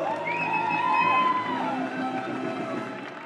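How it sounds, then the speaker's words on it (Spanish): A crowd at a cycling team presentation for La Vuelta 2024 cheers and shouts loudly, with whoops and voices rising over a continuous roar of applause that slowly fades. "Grande aplauso para Alberto"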